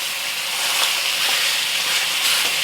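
Pork hitting a hot wok and searing, a steady, loud broadband sizzle and hiss that holds evenly throughout with no talking.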